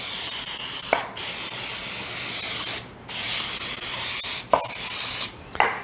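Close, steady hissing of cooking spray onto parchment paper in several bursts with short breaks, each start marked by a faint click of the nozzle.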